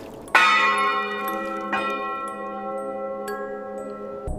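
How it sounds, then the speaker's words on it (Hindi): A village church bell rings at night, three resonant strikes spaced apart, each leaving a long, shimmering decay that overlaps the next, with another hit starting at the end. "रात के ठीक 3 बजे गांव का चर्च बिना किसी हाथ के खुद ब खुद घंटी बजाता है।"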